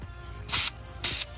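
Two short bursts of VHT NightShades aerosol tint spray, each a bright hiss lasting about a quarter second, separated by a brief pause.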